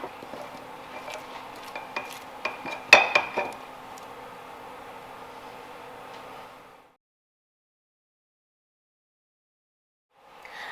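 Clinking and scraping of a spoon and metal pot as Afghan sheer payra milk fudge with pistachio and cardamom is moved into a clean pot, with several sharp clinks, then silence.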